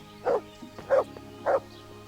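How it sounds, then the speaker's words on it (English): A dog barking in the medieval role-playing game Kingdom Come: Deliverance, three evenly spaced woofs at moderate distance over a low steady background hum. "Dog, shut up."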